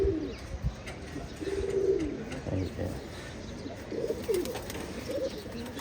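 Male pigeons coo repeatedly in a loft, throaty rolling calls heard close up in several bursts, with someone speaking briefly over them.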